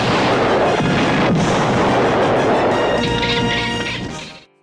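An explosion on a golf course fairway from the 1980 film Caddyshack, a loud, sustained crashing roar with sharp bursts that keeps going for several seconds before cutting off abruptly.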